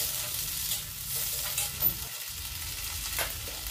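Steady sizzling of dry-roasting peas in a hot pan with occasional stirring scrapes, close by, with no talking.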